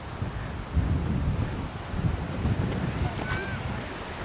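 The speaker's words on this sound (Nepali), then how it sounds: "एकदम हावा चलेको" Strong wind blows outdoors on an autumn outing in Japan, a continuous rough rumble buffeting the microphone up close, with faint voices in the background.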